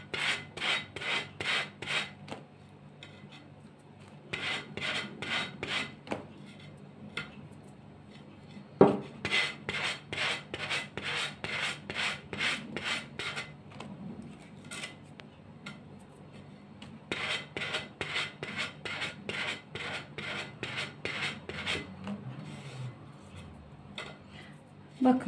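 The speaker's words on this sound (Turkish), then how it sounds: "Sünger zımparayla kenarlarını alın." An old plate's edges are smoothed with sponge sandpaper for a decorative wall plate project, producing close rhythmic rasping strokes in long rapid bursts separated by short pauses.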